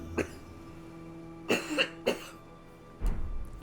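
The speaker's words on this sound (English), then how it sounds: "I just needed to cough, and I couldn't think straight." A person with a scratchy throat coughs several times: one short cough, then a cluster of two or three harsh coughs, and a final rough throat-clearing burst, close and loud.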